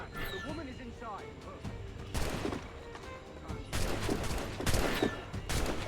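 Gunfire in the action game Assassin's Creed Rogue: loud bursts of shots and crashing impacts arrive in two main clusters over a busy game soundscape, with character voices speaking between them.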